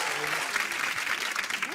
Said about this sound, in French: Vous pouvez l'applaudir, hein.